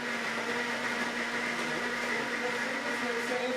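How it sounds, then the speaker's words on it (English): A blender whirs steadily at full speed, a constant high-pitched motor drone with a rattling, grinding edge, close by and unbroken. "Turn our blender at full speed."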